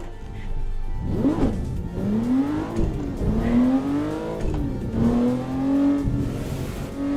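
Car engines rev and whine during a highway pile-up in the PC racing game Assetto Corsa, rising and falling in repeated swells, loud and close.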